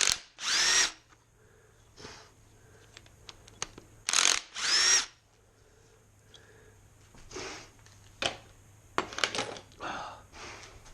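A power tool with a socket spins in short bursts while removing the oil pump from a Jaguar MKII engine during a rebuild, several loud whirring runs separated by pauses, with small metallic clinks in between.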